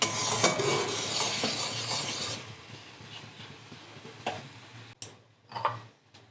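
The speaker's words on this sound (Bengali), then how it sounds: "এভাবে ভালো করে নাড়তে হবে" Sesame seeds and cane jaggery stirred in a pan for sweets, a soft scraping and sizzling that fades after a couple of seconds, followed by a few sharp clicks and knocks of a utensil against the pan, close and without talking.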